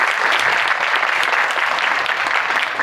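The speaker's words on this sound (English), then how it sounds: "I would like to have a big round of applause for our LSNB team." A crowd gives a big round of dense, steady applause for a bank team at a company gathering, loud and sustained throughout with no talk over it.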